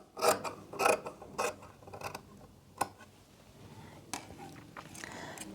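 A sewing machine stitches fabric for a kurti in short bursts of rapid mechanical ticking and clicking, several separate runs with pauses between them, close but fairly quiet.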